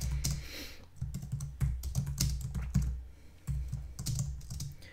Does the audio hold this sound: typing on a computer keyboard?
yes